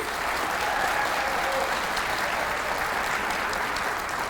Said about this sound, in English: Would you give the students and the teachers one more round of applause, please?